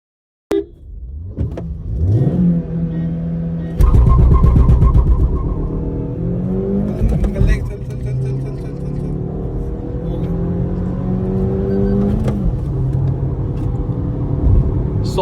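A Maruti Swift and a Toyota Glanza launch in a drag race, engines revving hard and climbing through gear shifts, loud and close, with a sharp burst of acceleration partway through and continued high-revving strain.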